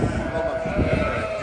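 Sheep bleat inside a spacious sheep farm barn, the animal calls mixed with background voices talking over a steady indoor din.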